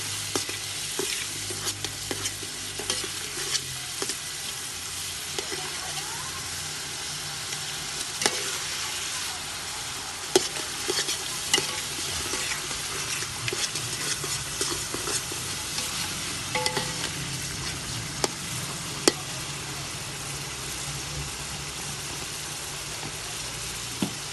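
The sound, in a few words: stirring cumin and spices frying for chicken biryani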